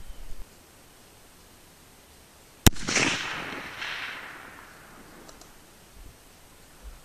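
A U.S. Model 1917 rifle in .30-06 fires a 150-grain flat-nose hand load at an outdoor range, one sharp loud crack followed by a long rolling echo that fades over several seconds, with wind noise and no talking.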